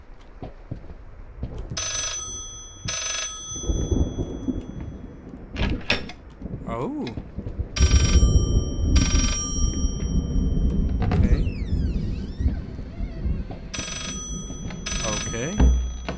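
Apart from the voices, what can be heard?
telephone ringing in Layers of Fear video game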